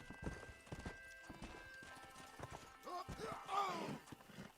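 A horse gallops in the Red Dead Redemption video game, its hooves clopping in a steady quick rhythm at moderate loudness, with a brief whinny near the end.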